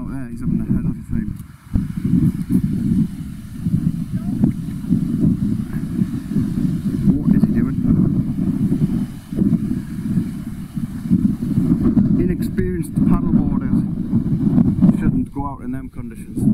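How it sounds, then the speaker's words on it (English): Strong wind buffets the microphone with a constant low roar throughout while wild camping by a Scottish river, with faint voices occasionally audible underneath. "It's too windy and wild."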